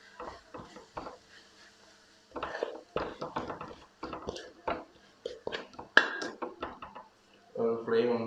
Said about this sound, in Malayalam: ഇതെല്ലാം ഒന്ന് നമുക്ക് ഇളക്കി കൊടുക്കാമെന്ന് വെച്ചാൽ